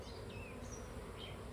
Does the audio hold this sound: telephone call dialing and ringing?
no